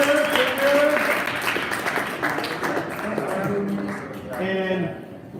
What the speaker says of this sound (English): can we give a round of applause to the career dev instructors here?